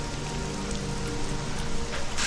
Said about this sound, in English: Are we running to Pelagiad in the rain?